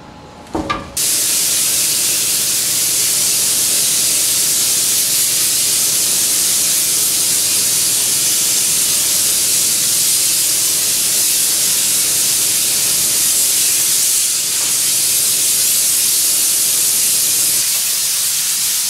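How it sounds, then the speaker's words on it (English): A long, continuous hiss of spray paint from an aerosol can, applying a ground coat to a fender in a shop, runs steadily and loudly after a brief clunk at the start. "Now I'm ready to spray the ground coat."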